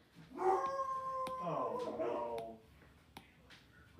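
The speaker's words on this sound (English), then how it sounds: "My dogs always bark." Dogs howl and yelp in a drawn-out, wavering cry, fairly faint and indoors, with a few sharp clicks around it and a brief pause before the sound resumes.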